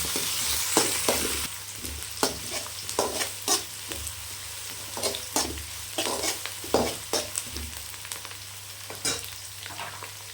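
Curry leaves, shallots and green chillies sizzling and frying in hot oil for a mutton curry, with a sharp crackle at the start, then softer frying under repeated stirring scrapes of a spoon in the pan, close and without talk.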